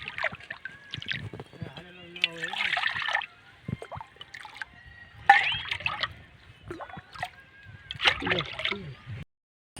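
Cool water sloshes and trickles from a small stone water tank at a farm while someone drinks. The splashes come in short bursts between pauses, with people talking nearby.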